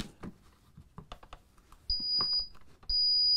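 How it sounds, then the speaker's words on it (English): A Bosch laser level gives a long, high, steady electronic tone twice, each after a few soft handling clicks and taps. "And it beeps when it's at a level."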